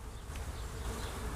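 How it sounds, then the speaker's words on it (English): Honey bees buzz steadily inside a beehive during a June inspection with the queen excluder removed, a continuous close, dense hum with no speech. "there are more than 20 bees up here"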